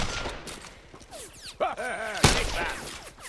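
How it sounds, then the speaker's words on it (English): Gunfire from the Block N' Load shooter game crackles in a dense, steady volley, with one louder sharp shot near the middle and brief vocal sounds in the mix. "They're shooting at me, but they're not hitting me."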